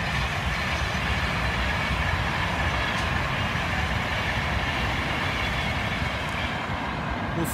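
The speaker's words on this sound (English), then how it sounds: "This is an Avanti West Coast service to Manchester Piccadilly from Euston." Avanti West Coast passenger train from Euston to Manchester Piccadilly passing close by, a loud, steady roar of wheels and carriages that holds level throughout with no voices.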